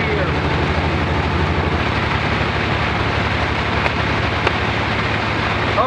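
Rain pours steadily onto a truck cruising down an empty highway, a dense hiss layered over a low engine and road hum, loud and continuous.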